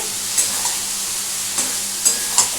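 Fish roe being stirred into a hot, sizzling fried spice paste for a Bengali macher dimer jhal, with a steady hiss and a few scattered spoon scrapes and taps, close and alone.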